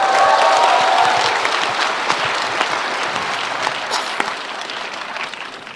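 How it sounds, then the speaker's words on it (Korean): Audience applause fills a talk concert hall in Gwangju, a dense, steady clapping that stays loud throughout and tapers only slightly toward the end, with no voices over it. "박수를 많이 쳐주시던데 오늘도 그렇군요"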